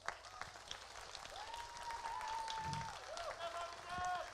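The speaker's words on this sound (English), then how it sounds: "big round of applause for your parents" After a percussion evening performance, a school audience applauds the performers' parents, with scattered clapping under talk and a voice holding a tone over it, fairly faint and distant.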